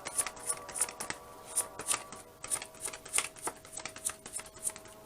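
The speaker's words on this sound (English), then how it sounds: "This is the energy I was getting when I was shuffling with the moon cards." Tarot moon cards being shuffled by hand, a rapid series of crisp, papery riffles and snaps in irregular bursts, close and clear with no talking.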